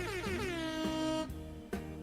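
A loud, sustained air horn blast with a bright harmonic tone that slides downward, followed by a couple of short honks, used as a comic explosion-in-an-air-horn-factory sound effect.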